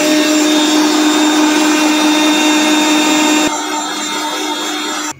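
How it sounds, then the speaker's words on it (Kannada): Kitchen blender whirring through a chia seed, almond and raisin shake, a loud steady high-pitched motor drone that drops to a lower pitch partway through before cutting off abruptly. "ಆಲ್ಮೋಸ್ಟ್ 1 ಮಿನಿಟ್ಸ್ ಅಷ್ಟು ಬ್ಲೆಂಡ್ ಮಾಡಬೇಕು"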